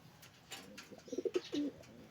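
Young pigeons give a few soft, low coos in quick succession, close by and fairly quiet, with faint rustling around them and no talking.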